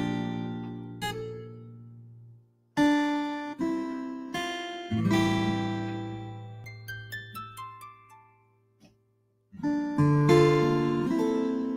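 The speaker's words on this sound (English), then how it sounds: "if you hold the second button, you get the harmonics. So it just gives you an added layer of expression when you're playing" Guitar voice on a Korg PA4X arranger keyboard playing phrases with hammer-ons, slides and bright bell-like harmonics, notes plucked and left to ring with short pauses between them, clear and close with no talking.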